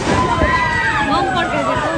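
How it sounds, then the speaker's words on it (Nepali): Firecrackers burst at midnight in a Nepali village to drive off a wild elephant, giving rough, crackling booms under a noisy crowd of excited voices throughout. "ल बम पड्काउँदै छ नि"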